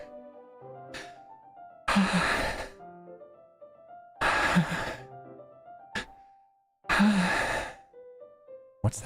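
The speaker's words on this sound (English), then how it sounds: "It sounds like breathing." Heavy, breathy sighs from someone around a corner of a school hallway in Doki Doki Literature Club, three long exhales at a slow, even rhythm, alone over a quiet tonal background.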